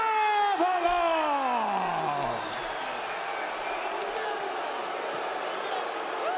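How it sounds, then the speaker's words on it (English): A Chicago arena crowd at a PFL fight booing a unanimous decision after the scorecards are read, with a loud, sustained roar of disapproval while an announcer's voice trails off at the start. "The Chicago crowd does not like it."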